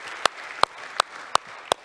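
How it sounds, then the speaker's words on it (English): Five sharp, evenly spaced claps ring out at a slow, steady beat over a faint hiss at a church service, sounding like a single person clapping. "So let's give them another round of applause."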